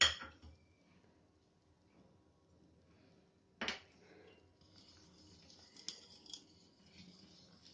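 A spoon stirs cardamom powder into kheer in a pot, giving a few sparse metallic clinks and soft scrapes against a very quiet background.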